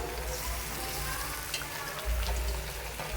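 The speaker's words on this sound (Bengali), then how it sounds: "আমি এখন মাংসটা দিয়ে দিলাম" Chicken meat frying in a pan, a steady close sizzle that continues throughout with a low rumbling undertone and no talking.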